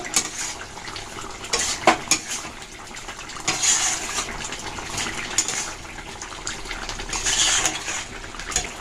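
Pointed gourd tossed with spices in a pan while prawn curry cooks, with a spoon scraping and clinking against the metal in irregular close strokes over a low sizzling hiss.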